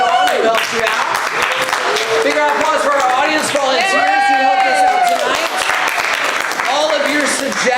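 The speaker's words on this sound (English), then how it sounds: "Big round of applause for our audience volunteers who helped us out tonight" An audience at a live improv comedy show breaks into loud, sustained applause and cheering for volunteers, a dense wash of clapping with whoops and shouts on top, filling the room throughout.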